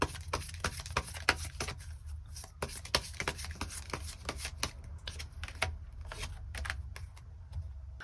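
A deck of tarot cards is shuffled and drawn by hand, giving a close, busy run of quick papery slaps and riffles in irregular bursts.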